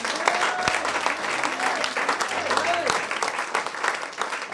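A church congregation applauds loudly and steadily throughout, a dense wash of clapping with scattered voices and shouts mixed in.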